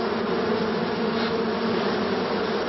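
A dense, steady buzzing hum of many honeybees in an opened hive, rushing around the combs, fills the clip, loud and close, with no voices.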